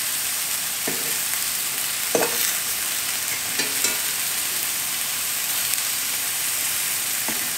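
Mexican-style meatballs sizzle in a frying pan, a steady bright hiss of frying with a few soft clinks and stirring knocks scattered through it, close by and with no talking.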